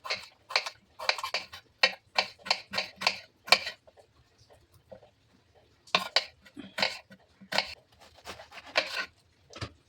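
An onion sliced lengthwise with a knife on a board, giving rapid, crisp chopping taps in two bursts with a short pause between, close and fairly loud.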